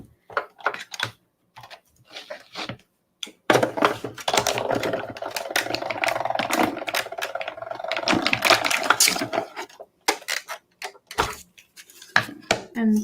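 A manual die cutting machine for papercraft cards rolls paper through with a steady grinding, clattering run, preceded and followed by sharp handling clicks and taps; close-up, with no talking over it.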